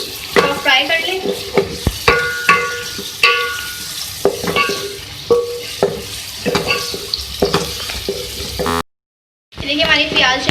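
Onion and green chillies fry in a pan while a spoon repeatedly scrapes and knocks against it, crackling sizzle underneath, with someone talking over the cooking and a brief silent gap near the end.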